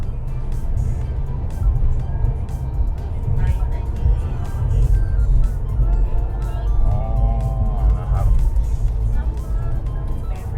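Engine and road roar inside a Mercedes CLS 53 accelerating hard from 120 km/h, a steady, loud cabin drone rising in pitch, with people talking over it.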